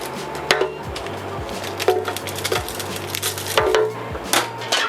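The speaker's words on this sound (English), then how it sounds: "Cut this chili small piece." Dried chili pods being cut into small pieces, a series of irregular knife cuts with sharp ticks against a board, heard over a steady low hum.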